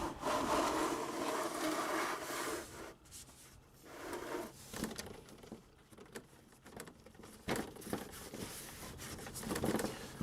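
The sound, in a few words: closing the coolant drain on a Honda Accord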